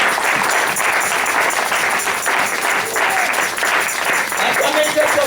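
A church congregation at a French-language seminar claps and cheers for the glory of God, dense steady applause with shouting voices mixed in throughout.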